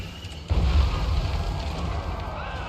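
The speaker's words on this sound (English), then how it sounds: "Thank goodness for artillery" Artillery explosions in a Total War Warhammer 3 battle: a heavy boom lands about half a second in, followed by a sustained rumbling roar of continued bombardment.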